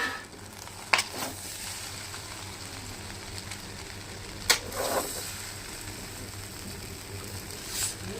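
Chicken fried rice stir-frying in a pan with black pepper powder added, a steady soft sizzle broken by a couple of sharp metallic clinks of the spatula against the pan.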